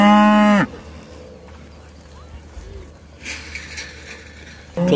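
Cattle moo loudly at close range as a drawn-out low call that opens the clip, followed by quiet outdoor ambience and scattered noise, then another moo beginning right at the end.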